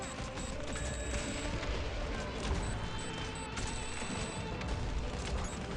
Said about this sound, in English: the explosion actually kind of works this time